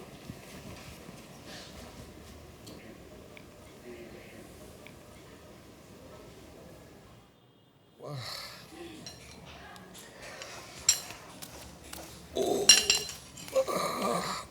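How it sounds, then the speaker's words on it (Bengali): Noodles are being prepared in a home kitchen. After a quiet, low hum, dishes and cutlery clink and clatter in irregular, fairly close bursts that grow busier toward the end. "নুডলস রান্না করতেছি"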